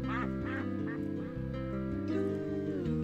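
A cartoonish duck quacks repeatedly in the Flash game Fly Guy, the quacks sitting over a looping tonal game soundtrack at moderate volume.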